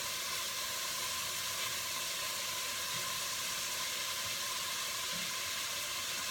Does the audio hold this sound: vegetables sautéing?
yes